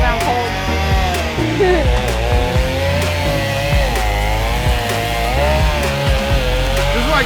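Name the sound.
chainsaw cutting tree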